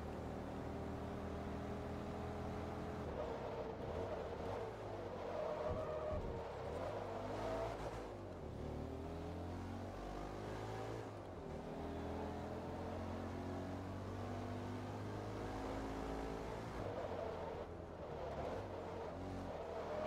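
A race car engine in the Forza Motorsport 2 video game revs loudly and continuously, its pitch climbing and falling through gear changes for the whole stretch, with no talk over it.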